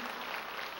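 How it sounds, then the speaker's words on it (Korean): A church congregation at a revival meeting in Incheon claps in a brief, dense burst of applause, steady and fairly close, with no speech over it. "이거 하나님께 영광 드리는 박수죠."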